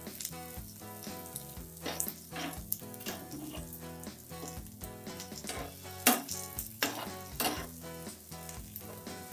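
Okra (bhindi) fries in oil in a pan for dhaba-style bhindi masala, giving a steady crackling sizzle with scattered sharper pops and the occasional clink of a utensil against the pan.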